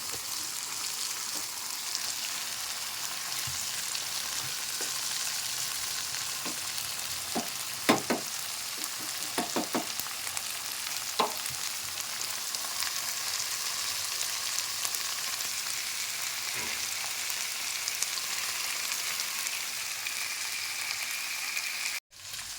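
Cluster beans cooking in a pan give a steady, even frying hiss throughout, with a few scattered stirring clicks and taps, close up and with no voices.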